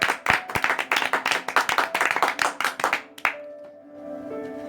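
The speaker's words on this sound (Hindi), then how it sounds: "तो आइए हम वचन में जाने से पहले जोरदार तालियों से परमेश्वर का स्वागत करते हैं।" A congregation at a prayer meeting claps loudly in a steady rhythm of about three claps per second, then stops abruptly, leaving a faint lingering hum afterward.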